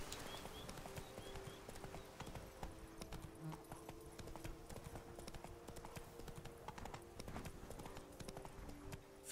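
A horse's hooves clip-clop in a steady galloping rhythm while riding in The Witcher 3: Wild Hunt, a continuous close patter of hoofbeats with faint background game tones.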